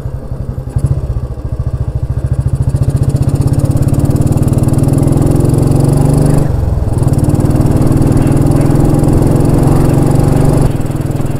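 A Royal Enfield Bullet 350 motorcycle thumps along on a ride, its single-cylinder engine a loud, close, rapid steady beat. The note rises smoothly as it revs through the gears, with a brief dip midway before climbing again.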